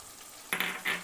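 Cashew paste going into a pan of frying chicken with capsicum and onion: a quiet background fizz, then two bursts of wet sizzling and stirring as the thick paste hits the hot pan.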